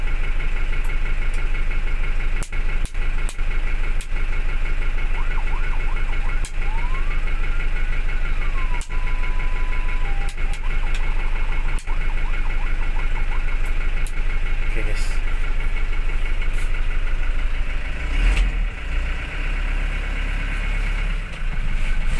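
Fire truck engine idling steadily while warming up, with a short siren wail and sweep rising and falling partway through, and a few sharp clicks and knocks over the constant rumble.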